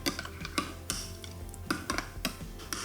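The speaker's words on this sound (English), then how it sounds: "Give that a stir." A spoon clinks and scrapes against a bowl while stirring a Greek yogurt dressing with capers and anchovies, making a run of light, close taps and knocks with no talk.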